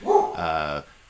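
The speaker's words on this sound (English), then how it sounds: "you can hear my dog barking in the background" A household dog gives a single loud, close bark that trails into a brief whine before falling quiet, with no talking alongside.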